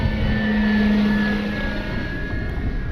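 An E-flite Carbon-Z T-28 radio-controlled airplane flies overhead, its steady electric motor and propeller whine droning continuously at moderate distance and easing slightly as the plane slows for a landing approach with flaps down.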